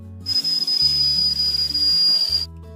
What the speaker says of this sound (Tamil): இந்த புட்டுக்குழலில் புட்டு வேகும்போது விசில் அடிக்குங்க